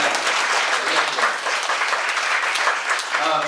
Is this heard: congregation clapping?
yes